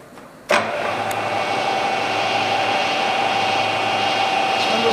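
The spindle of a Bridgeport 2J vertical milling machine starts abruptly after a quiet moment, then runs with a steady motor hum and whine that holds level and close by, with no talking.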